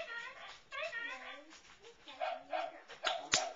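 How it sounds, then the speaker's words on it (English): A puppy yips and whimpers in short, uneven bursts indoors, mixed in with people talking over it. "Yay! That's a puppy."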